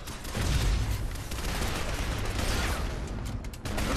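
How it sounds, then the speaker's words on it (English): Gunfire in the side-scrolling action game Shadow Complex, a dense, continuous barrage of shots and blasts with mechanical clatter, loud and close throughout, with no pause over the few seconds. "This guy's shooting me. He's fucking me up. Oh, now he's shooting me."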